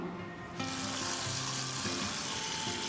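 A hot tempering is poured into moong dal and erupts into a sudden loud hiss after a brief quiet moment, then keeps sizzling steadily and close up beneath background music.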